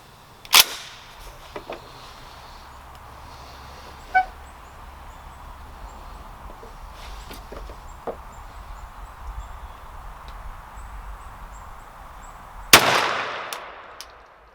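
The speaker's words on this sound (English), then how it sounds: "I'm going to go ahead and shoot the Longbeard XR 40 yards" A shotgun fires a Longbeard XR load at 40 yards, one loud sharp blast with a ringing tail near the end, after a smaller sharp crack at the start and quiet outdoor ambience between.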